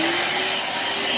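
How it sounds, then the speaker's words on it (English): A vacuum cleaner hoovers soot off a light carpet, its steady loud motor roar running unbroken throughout with a faint constant whine above it. "probably the first thing you're going to do is hoover it off"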